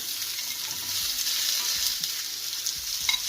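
Ćevapčići, Balkan minced-meat kebabs, fry in a hot pan with a strong, steady close sizzle and crackle, a continuous bright hiss with occasional faint knocks of handling.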